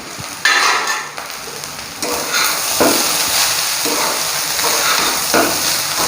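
Soy sauce going into egg prawn fried rice in a hot pan, with a loud, steady sizzle and frying hiss, broken by a sharp burst as the liquid hits and by the scrape of stirring.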